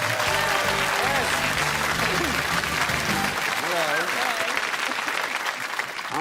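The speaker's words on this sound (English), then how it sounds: "Give them a round of applause." A studio audience at a television game show breaks into sustained applause, a loud continuous wash of clapping while a voice talks and laughter rises over it.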